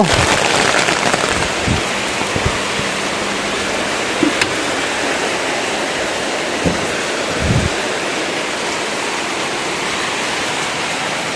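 Steady rain pours down on a village home, a dense continuous hiss of heavy rainfall close by with a few faint thumps and knocks underneath, no voices.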